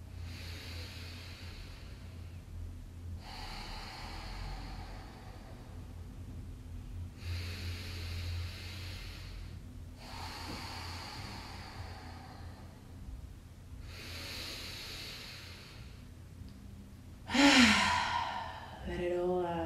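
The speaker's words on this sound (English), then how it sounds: "Three more deep breaths in and out." Slow, deep yoga breaths, in and out, repeat in a steady rhythm of soft, airy rushes every few seconds, close and gentle, ending with a louder exhalation.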